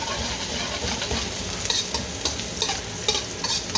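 Aromatics fry in hot oil on an electric stove for kitchen-sink fried rice, a steady loud sizzle with occasional sharper crackles and stirring scrapes, no voices.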